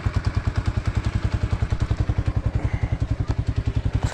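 A moped engine runs close by at a steady idle, putting out a fast, even train of low thumping exhaust pulses with a light mechanical clatter over it.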